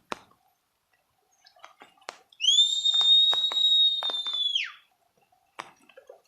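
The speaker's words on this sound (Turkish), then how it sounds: "Şunları bir ıslık çalsana." A person's single clear, sustained high whistle held for about two seconds, then dropping off sharply, surrounded by scattered clicks and quiet knocks in a chicken coop.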